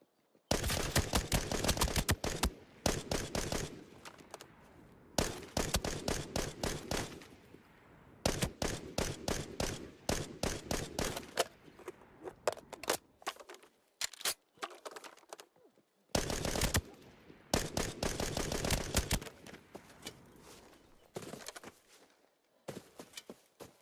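Gunfire in the video game Halo 4, repeated bursts of rapid rattling shots separated by short pauses, steady and fairly close, with no talk over it.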